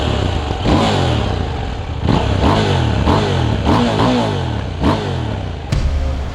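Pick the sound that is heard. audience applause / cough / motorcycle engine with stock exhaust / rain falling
motorcycle engine with stock exhaust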